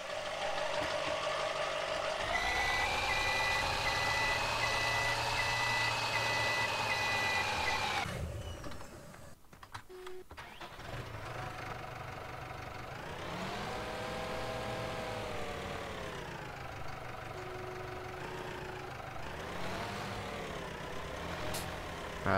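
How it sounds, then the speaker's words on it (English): Dump truck reversing in Farming Simulator 17 at a John Deere dealership parking lot: a steady engine drone with repeated reversing beeps, a brief break with clunks midway, then engine revs rising and falling. "let's move the dump truck out of the way"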